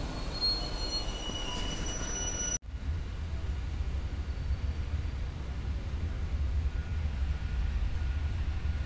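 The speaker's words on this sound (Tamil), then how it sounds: "நம்ம வண்டியை எடுப்பாங்கன்னு பார்த்தா பக்கத்தில் இருக்க குட்ஸ் வண்டி எடுக்கிறாங்க." A goods train rolls along the adjacent track beside a waiting passenger train on the Trichy–Bengaluru line, steady rumbling wheel noise with brief high squeals early on, a sharp cut, then continuous low rolling clatter, close and loud.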